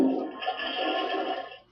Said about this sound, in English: Flush sound